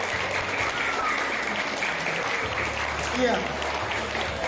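Applause from a hall full of primary-school children and parents at an Islamic school education seminar, a dense steady patter of many hands sustained throughout with a voice speaking briefly over it.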